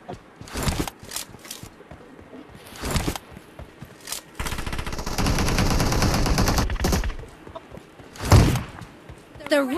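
Machine gun fire in a team esports shooter match, with short separate bursts and then a long sustained volley in the middle, loud and close, followed by a heavy thud, while players talk throughout.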